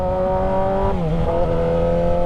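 A Yamaha motorcycle engine runs steadily and loudly close by, its pitch dipping and then climbing again as the throttle is blipped into a rev.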